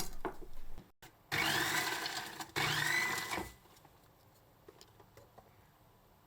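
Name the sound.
slicer shredding cabbage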